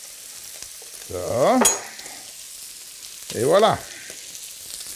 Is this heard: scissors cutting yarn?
no